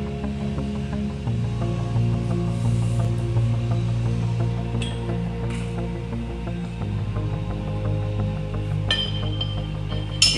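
A 3 5/8 custom wrench tensions the spring assist on a tank manway, giving steady ratcheting mechanical clicks with metallic clinks near the end, up close and without speech.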